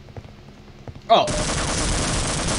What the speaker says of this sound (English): I was shooting him in the face, like, several times.